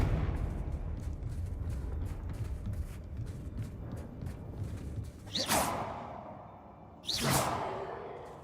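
Confringo spell cast in a Harry Potter video game: two sharp rising whooshes with fiery bursts over a steady low ambient rumble, each swish loud and close.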